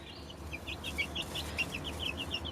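Baby chicks and older chickens in a home chicken house, with a rapid series of high, bright peeps and soft clucks repeating steadily over a low background rumble, close by.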